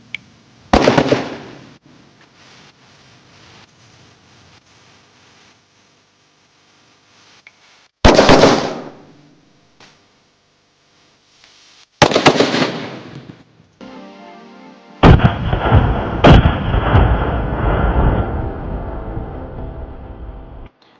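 Diwali firecrackers packed in light bulbs and set off by a battery go off in four sharp, loud blasts spaced several seconds apart, the last followed by a long crackling, fizzing burn.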